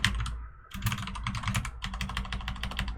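Rapid keystrokes on a computer keyboard while a folder name is entered during a Unity project setup, a close, steady patter of clicks with a brief pause near the start and no talk.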